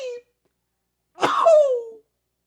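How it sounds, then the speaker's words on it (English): A single person sneezes during a podcast recording: a short breath, a pause, then a sudden loud burst that trails off into a voiced tail, close to the microphone. "I'm actually about to sneeze."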